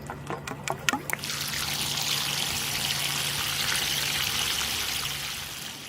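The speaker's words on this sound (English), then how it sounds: "And then we want to flush the line to get any debris out of it." Water rushes out of the open end of a drip irrigation line being flushed of debris, a steady loud gushing hiss that starts after a few short clicks and keeps flowing without a break.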